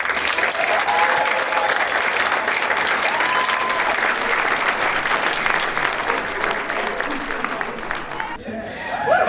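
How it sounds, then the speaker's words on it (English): A theater audience applauds the director at an evening event, a thick, steady wash of many hands clapping at full volume for nearly nine seconds before fading at the very end. "give a big round of applause for our director,"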